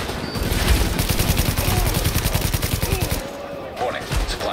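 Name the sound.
shotgun fire from an enemy in the video game The Division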